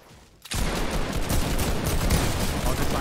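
Dense, continuous rapid gunfire from shooting in the Fortnite video game, with sustained bursts and a steady, loud barrage after a brief quiet start.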